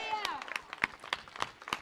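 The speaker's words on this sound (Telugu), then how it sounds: "స్తోత్రం చెప్పి గట్టిగా చప్పట్లు కొట్టండి" A church congregation at a night gospel meeting claps in a quick, steady rhythm of sharp, evenly spaced beats, with a voice briefly heard at the start.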